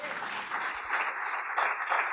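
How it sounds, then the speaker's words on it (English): Audience applause at a book discussion event, a short burst of steady clapping from a crowd that swells slightly toward the end. "I think we should have some applause for that at least."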